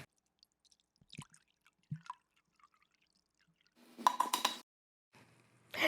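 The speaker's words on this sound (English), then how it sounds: "Now we want to put our ice aside and pour in our shake." A banana chocolate protein shake is poured over ice in a cup: a few faint drips and clinks, then a short burst of liquid pouring followed by another brief pour, quiet and close with no talking.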